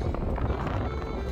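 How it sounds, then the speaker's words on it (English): Strong gusting wind on a very cold winter hike near Canmore, Alberta, a steady loud rumble buffeting the microphone. "The winds are gusting at the 70 kilometers an hour."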